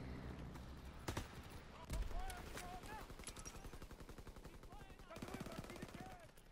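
Rapid automatic fire from an MP40 submachine gun in a first-person shooter game, steady repeated shots running through most of the stretch with a few louder bursts mixed in over busy game sounds.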